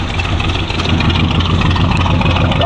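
A 1987 Oldsmobile Cutlass engine idles after its carburetor has been cleaned, giving a loud, close, steady low rumble with an even pulsing throb, with no talk throughout.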